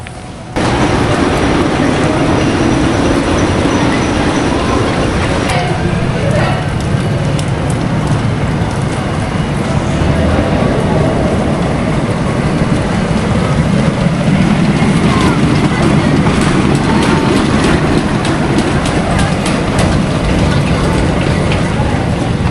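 Steady rumbling roar of the Beast roller coaster train running slowly on its track, continuous and fairly loud, with some crowd noise and voices mixed in.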